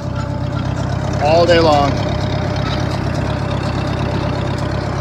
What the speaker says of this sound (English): Nothing's more peaceful than running a tractor out in the field with you and the equipment and Mother Nature.